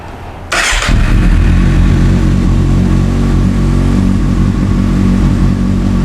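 A Kawasaki Z800 sport motorcycle engine with 60,000 km starts with a brief burst, then settles into a steady, loud idle with a deep rumble that runs on evenly, close by.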